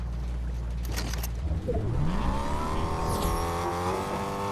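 A car engine in the video game Fortnite revs up and accelerates steadily, its pitch climbing loud and close, with a dense mechanical drone throughout.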